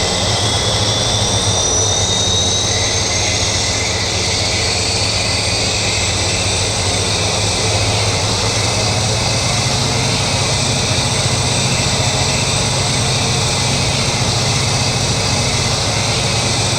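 Jet engine number two of an airliner spooling up during a start in a flight simulator game, a loud steady turbine roar with a rising high whine held throughout, no talking.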